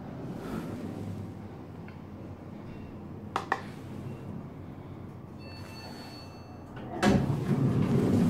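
Stainless steel door of an Otis Compass destination dispatch elevator at the Richmond Adelaide Centre in Toronto sliding open and closed, heard as two rumbling, swishing movements over steady lobby ambience.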